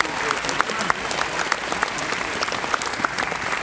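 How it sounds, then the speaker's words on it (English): Audience applause at a Winterfest 2020 event with motocross rider Trey Canard, a steady wash of many hands clapping from start to finish with a few sharper individual claps standing out. "let's give a round of applause for God"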